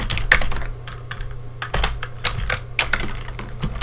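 Rapid, uneven typing on a computer keyboard, close and clear, with bursts of key clicks and brief pauses over a faint electrical hum.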